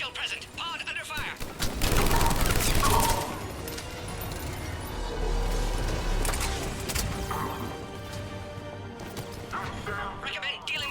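Gunfire strikes a pod in the video game Mass Effect 3, with dense crashing and banging hits and layered battle noise under a synthetic voice and game music, loud and continuous throughout.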